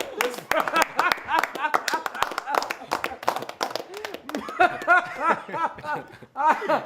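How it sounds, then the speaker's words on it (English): Audience claps for a beatboxer, a patchy burst of hand claps mixed with chuckles and laughter while people keep talking over it. "give this brother a hand clap."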